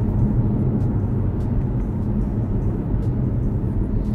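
A 2017 Toyota C-HR hybrid accelerating on a road, heard from inside as a steady low rumble of engine and tyre noise, continuous and fairly loud, with no talking.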